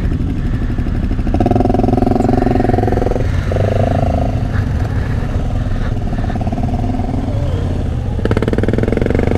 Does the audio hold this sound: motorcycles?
yes